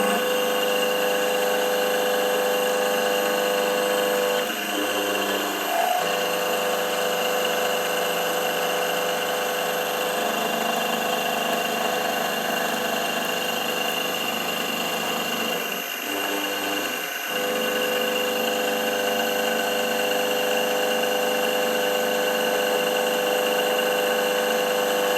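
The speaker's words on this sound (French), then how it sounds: "Pour vous montrer à la vitesse qu'on peut fraiser avec une petite fraise comme ça." A small milling cutter surfaces an XC48 steel plate, giving a steady machine drone with a constant high whine and tonal hum. Two brief dips in the sound break the run.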